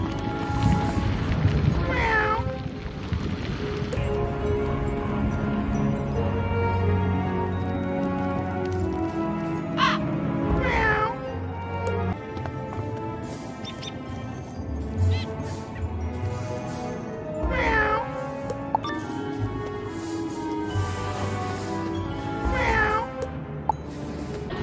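Fire kittens in the online game Wizard101 meow repeatedly, clear rising and falling cries recurring every few seconds over a steady layer of game music.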